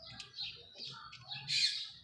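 Several small birds chirp and tweet in quick, bright bursts close by, the calls overlapping briefly with no other sound.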